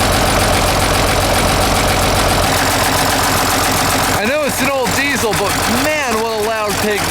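An old tractor engine runs loudly through its muffler, a dense steady roar that fills the whole clip, with a person talking over it toward the end.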